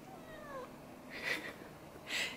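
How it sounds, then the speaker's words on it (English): A cat meows a few times, two short mid-pitched calls close by in a quiet room, with no talking. "If I talk to him, he meows at me"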